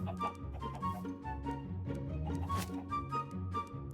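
Repeated short clucks from several Minecraft chickens in quick, uneven succession, fairly close and moderately loud, with no talking.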